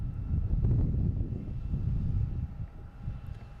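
An American Airlines Embraer E175 jet at Boston Logan Airport gives off a low, steady rumbling roar, heard at a distance with some wind, and no one talks over it.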